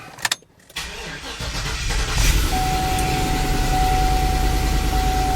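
Cadillac Escalade field car with a missing exhaust and no windshield, its engine catching after a brief crank and then settling into a loud, steady rumbling idle that continues to the end.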